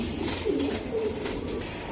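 Racing pigeons cooing in a loft, soft low murmuring coos over a constant background hum, with several birds calling close by.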